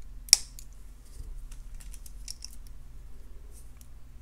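A sharp snip of wire cutters trimming excess wire on an agate point pendant necklace, one crisp click near the start followed by faint small clicks of handling, close and without talk.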